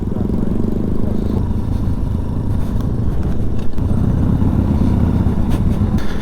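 A 2022 Benelli Tornado TNT 125 motorcycle cruises down the road at an ABR Festival, its small single-cylinder engine humming in a steady, close drone under rushing wind.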